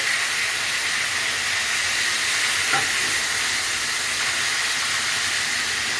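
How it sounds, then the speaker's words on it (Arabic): Meat and mixed vegetables sizzle in a hot pan as they are sautéed, giving a steady, loud, close hiss throughout with no talking over it. "هطلعها بقى في الطبق عشان اخش انزل بالخضار المشكل، اديله تشويحه برضو"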